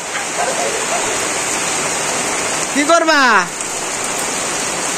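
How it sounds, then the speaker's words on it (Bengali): Steady rain falls in a village, a continuous hiss throughout, while people talk nearby and a voice briefly rises in a sliding call. "বৃষ্টি নামছে"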